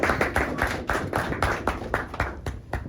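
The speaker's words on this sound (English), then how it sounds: "Let's give him a round of applause." A debate class applauding, rhythmic clapping with regular bursts, fairly close and loud, gradually thinning toward the end.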